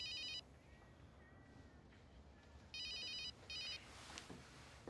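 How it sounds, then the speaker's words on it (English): A telephone rings in two-tone electronic bursts, three rings in about five seconds with a long pause after the first, fairly loud against a quiet indoor room. "Answer the phone"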